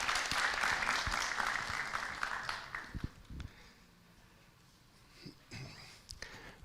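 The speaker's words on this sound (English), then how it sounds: "In your applause, thank you." Audience applause at a business services forum and awards gala in Bucharest, a dense burst of clapping that fades out over a few seconds, followed by quiet room sounds and a few small knocks.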